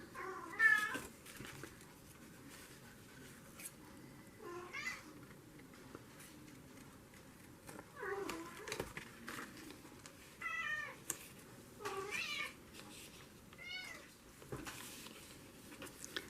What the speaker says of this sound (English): My kitty's playing with her toy she found.